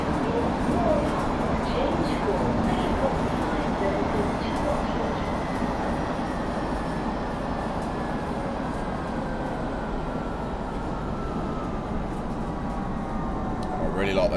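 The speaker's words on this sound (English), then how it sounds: "I really like those motor sounds." A Metropolitan Line train in Train Simulator Classic, running Chesham to Aldgate, rumbles along steadily while its traction motors whine in slowly sliding tones, moderately loud and continuous.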